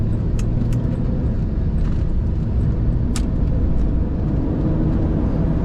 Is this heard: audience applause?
no